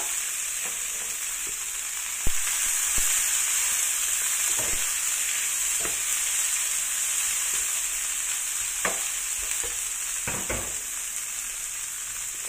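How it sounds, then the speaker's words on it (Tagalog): Vegetables fry in hot oil with garlic in the Taiwan style, a steady bright sizzle with occasional spatula clacks and stirring knocks, close and continuous. "So ito na guys, i-fry ko na yung vegetables."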